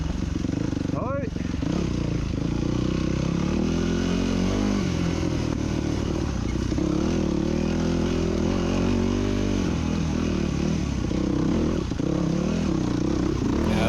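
A 250cc dirt motorcycle rides a tight forest trail, its engine droning and revving steadily and close throughout, with brief clatter and a voice speaking over it.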